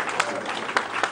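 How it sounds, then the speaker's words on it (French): Audience applause at a national promotional event for small businesses and crafts, a steady dense clapping wash with a few sharper peaks, moderately loud and close, with no voices over it. "Merci d'applaudir ce moment mémorable."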